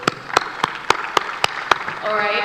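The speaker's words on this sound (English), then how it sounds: "A round of applause again for yourselves." At a venture capital program finale, a few slow, sharp claps ring out one by one at an even pace, then give way to a soft murmur and a brief tone at the end.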